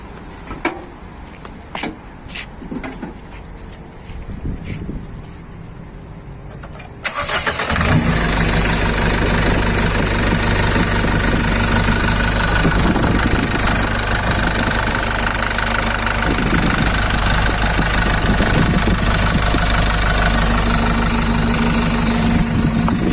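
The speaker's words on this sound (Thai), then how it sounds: "ที่เราแก้ระบบวาล์วไปเนี่ย เสียงเครื่องจะดังไหม" A few faint clicks, then a 2020 1.9 Blupower engine with a modified valve system cranks and starts, settling into a loud, steady idle that drones on close by.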